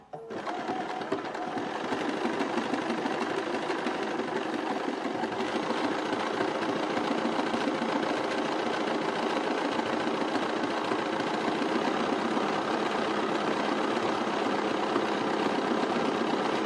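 Modern sewing machine stitching a decorative orange peel pattern, a fast steady mechanical whirring and needle chatter that starts after a brief moment and runs continuously, close up with no voices.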